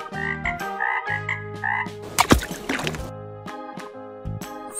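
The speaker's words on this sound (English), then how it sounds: "Frog." Frog croaks in a repeated, rhythmic series of loud, close calls, broken by a brief splash of water in the middle.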